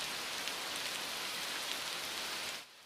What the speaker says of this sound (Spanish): Está lloviendo, así que no podemos salir al recreo.